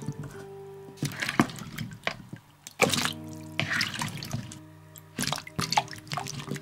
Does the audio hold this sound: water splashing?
yes